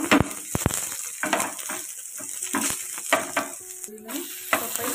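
Red chilli, garlic and ginger fry in a pan for a homemade pizza sauce, crackling under irregular utensil clinks and scraping knocks of stirring, fairly close and uneven.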